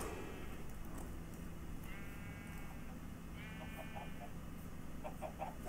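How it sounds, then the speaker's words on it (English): Sheep in the Minecraft video game bleat a few times at a distance, faint short calls over a steady background hum. "why do I hear sheep?"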